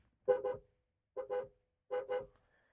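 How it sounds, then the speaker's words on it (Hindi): An MG Gloster car horn sounds three times, each a quick double beep, with short pauses between and no talking. "इसके अलावा ये है इसका हॉर्न।"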